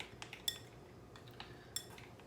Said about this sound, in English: And that's gonna go in, and we're gonna mix that up